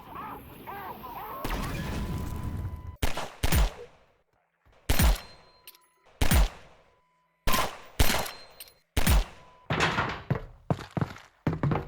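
Sniper rifle shots in Half-Life: Alyx ring out at enemies emerging from a tunnel, about seven sharp, loud reports spaced a second or so apart, each with a short decaying tail, after a stretch of ambient game noise.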